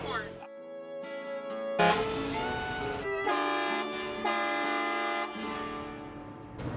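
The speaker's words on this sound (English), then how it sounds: "We'll have to compare and see if my air horn is louder than your air horn." Truck air horns blare in long, loud sustained blasts, several sounding one after another and overlapping, with talk heard between them.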